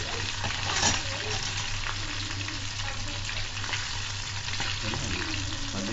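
Chicken feet deep fry in oil in a small pan, a steady close crackling sizzle with occasional pops and stirring, no voices.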